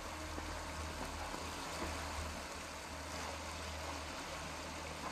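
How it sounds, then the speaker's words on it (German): A waterfall in the video game Sniper Elite 4 gives a steady, dense rush of falling water that fills the scene evenly at a moderate level, with no voices. "Ein Wasserfall hier."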